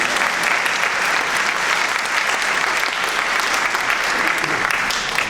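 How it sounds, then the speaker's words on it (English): Audience at a jazz ensemble performance clapping for the student players, steady dense applause throughout. "Applause for that"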